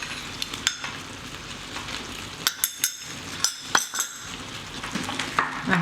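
Ingredients for a plant-based spaghetti bolognese are stirred in a sizzling pan, a spoon scraping and clinking against the metal in irregular taps over a constant close frying hiss.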